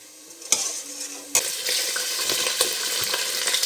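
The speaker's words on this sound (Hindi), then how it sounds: "अब हम चिकन डालेंगे" Chicken for a simple chicken pulao hits a hot pan, bursting into a loud sizzle with clanks of a utensil, then keeps frying steadily as it is stirred.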